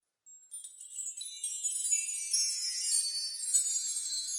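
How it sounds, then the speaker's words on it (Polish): A bright, high shimmering sparkle of tinkling chimes swells in and lingers, a magical glittery effect with no other sound beneath it. "dodam to przy akompaniamencie dźwięku wróżkowego pyłu"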